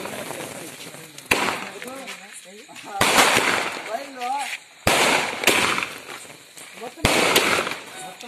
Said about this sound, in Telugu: కేక్ కట్ చేసి బాణసంచాలు కాలుస్తూ జన్మాష్టమి వేడుకలు చేసుకున్నారు.